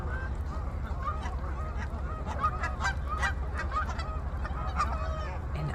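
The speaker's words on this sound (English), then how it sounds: "I wish you could hear what I'm hearing. It sounds really funny. See these geese right in front of me?" Geese at sunset at Creamer's Field honk repeatedly in overlapping, uneven calls, with a fairly close flock over a low, steady background rumble.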